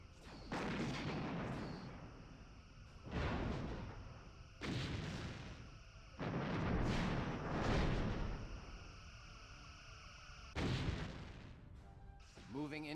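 Starship weapons fire in the Bridge Commander space combat game, a series of about six heavy booming blasts spaced a second or two apart over a steady low rumble.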